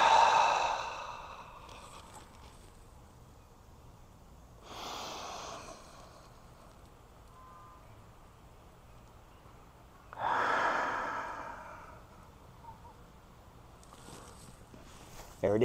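Deep breathing during a resting squat stretch: three long, close breaths, each a loud rushing inhale or exhale, spaced several seconds apart with quiet room tone between.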